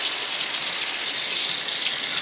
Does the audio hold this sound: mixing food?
no